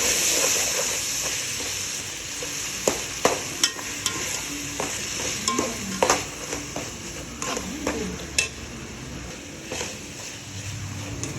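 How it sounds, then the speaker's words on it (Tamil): Chicken biryani masala sautéing in a pan, a steady close sizzle and hiss with scattered sharp clicks and scrapes of a spoon stirring through the mixture, no voices. "நல்லா வதங்கிக்கிட்டே இருக்குது."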